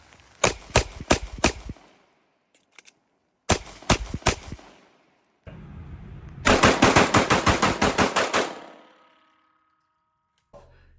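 A Glock 17 fitted with an ARC Reactor compensator firing at a range. Loud, sharp shots come in quick strings with pauses between them, then one long rapid burst near the end.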